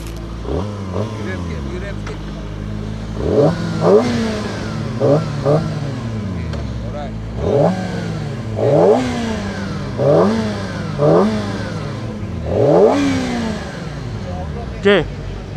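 A QJMOTOR SRK250RR four-cylinder 250 cc sport motorcycle revs repeatedly on a test ride, its engine climbing in sharp, rising bursts and dropping back between them, close and loud throughout.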